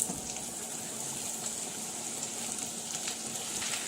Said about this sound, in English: I'll be frying the onions in beef fat.